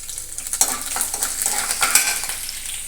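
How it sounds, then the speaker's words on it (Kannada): Green chillies drop into hot oil for a Karnataka-style tempering for bread upma, giving a steady broadband sizzle with bursts of crackle and faint stirring clinks from a spoon against the pan, close and fairly loud, with no talking. "ಆಮೇಲೆ ಒಂದು ಸ್ವಲ್ಪ ಮೆಣಸಿನ್ಕಾಯಿ ಹಾಕ್ರಿ"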